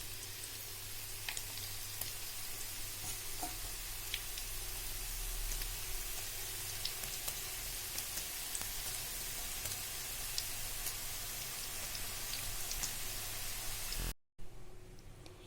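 Ragi and onion pakoda bubble and crackle in hot oil in a steady, even sizzle with scattered sharper pops, continuing alone until a brief cut near the end.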